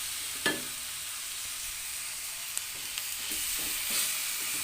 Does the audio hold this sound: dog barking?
no